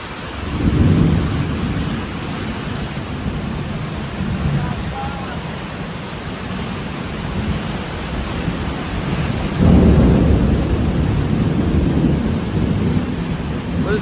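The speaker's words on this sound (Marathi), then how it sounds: "फुल जोर धरलाय पावसाने, फुल जोर." Heavy monsoon rain pours steadily at Malshej Ghat, a dense roaring wash with deep rumbling thunder swelling near the start and again later; a voice can be heard faintly through the downpour.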